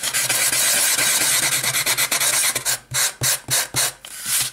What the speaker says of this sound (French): Alors c'est une lime à bois hein, pour vous voyez un peu dégrossir